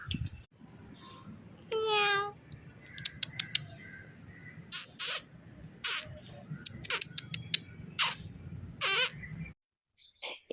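A few short, high kitten meows ring out among scattered bird chirps and outdoor background noise, faint and somewhat distant.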